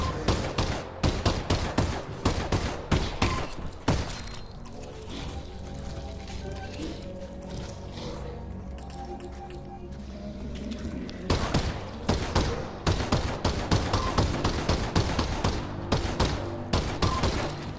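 Rapid bursts of gunfire in the virtual reality game Half-Life: Alyx, loud dense volleys at the start and end with a quieter mechanical stretch between.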